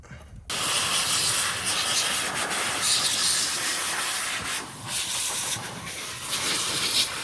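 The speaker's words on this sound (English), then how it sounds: "So I just drill brushed this seat." A harsh, continuous scrubbing hiss of a drill brush on a Porsche Panamera S car seat, starting abruptly and running steadily with brief dips.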